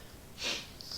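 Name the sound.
sniffing with a stuffy nose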